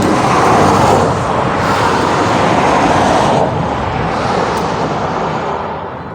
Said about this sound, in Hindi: यहाँ से एक गाड़ी जो है वो कोई आ रही है